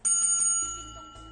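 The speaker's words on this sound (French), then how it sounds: "La cloche." A bright bell rings once on a French TV singing game show, a sharp metallic strike whose tone rings on and slowly fades, with no talking.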